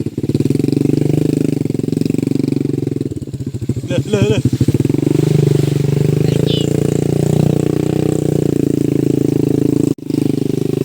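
An original-exhaust motorcycle engine drones loudly and continuously, revving briefly, while someone talks over it; a short clattering burst and a sudden cut break the steady noise.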